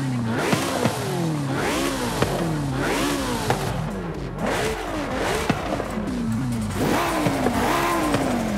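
A car in Forza Horizon 5 with a swapped engine revs loudly and repeatedly, rising and falling through the gears in close, continuous bursts. No one speaks.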